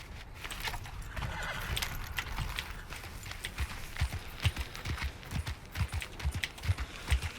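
Horse in the Red Dead Online video game, hooves clip-clopping in a quickening rhythm with a whinny near the start, set against rustling game ambience.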